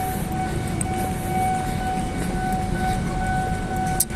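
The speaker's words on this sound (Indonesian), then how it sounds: "Ada kereta lewat" A train rumbles past nearby at night near Jakarta International Stadium with a steady low roar and faint metallic ringing tones, ending with a short clank.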